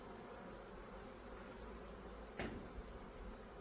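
Honeybees from a swarmed bee package hum steadily while being moved into a Ukrainian-style hive, a faint continuous buzz with a brief louder burst near the end.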